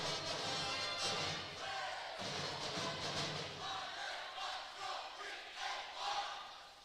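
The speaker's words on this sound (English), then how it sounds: "And what a crowd here on hand as well." A gym crowd roars and cheers loudly at a boys' high school basketball game, swelling and fading in waves with scattered shouts, with a band present.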